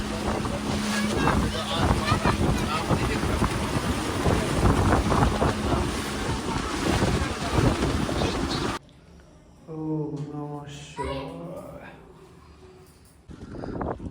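Boat ride on water near a temple around Ujjain, with a steady, loud wash of engine, wind and water noise for most of the stretch before it cuts to a quieter scene where someone speaks.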